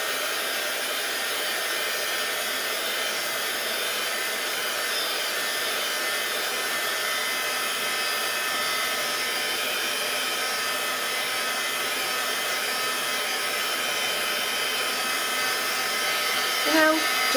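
A heat tool or hair dryer blows steadily to dry a sealed mixed media art tag with rub-ons and washi tape, a loud, constant whooshing hum that runs unbroken close to the mic.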